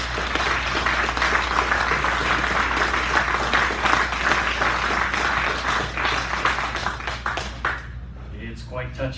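Applause from the audience at a charity golf outing, a dense, sustained crowd of clapping close by that thins out and fades near the end.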